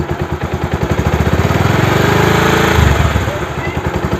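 Bajaj DTSI motorcycle engine revving up toward 2000 RPM while running on a single spark plug, its rapid pulsing firing beat rising and settling close by, loud and rough, with someone talking over it.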